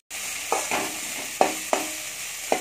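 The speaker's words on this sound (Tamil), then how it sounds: "நல்லா இதுமாதிரி வதக்கிட்டே இருங்க." Onions sautéing in a pan with ginger-garlic paste for a Kovai-style chicken gravy, a steady close sizzle broken by several distinct scraping strokes of a stirring spoon at uneven intervals.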